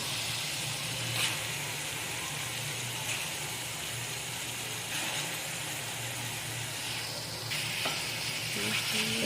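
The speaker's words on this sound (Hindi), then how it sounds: "चिकन को पहले फ्राई होने देंगे एक तरफ से।" Steady, loud sizzling of chicken frying in a hot pan for black pepper chicken karahi, a continuous crackling hiss with occasional stirring scrapes, no voices.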